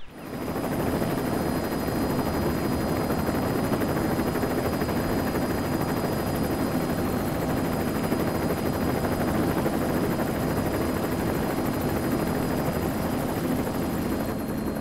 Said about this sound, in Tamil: ஹெலிகாப்டர் வந்துருச்சு